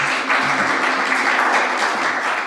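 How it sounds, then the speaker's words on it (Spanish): Church congregation applauding to greet a visiting woman during a Sunday service: a full, continuous burst of clapping from the room, fairly loud and unbroken, with no voices on top. "saludémosla con un aplauso"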